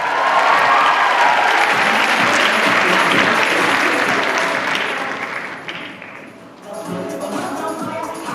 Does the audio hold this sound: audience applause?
yes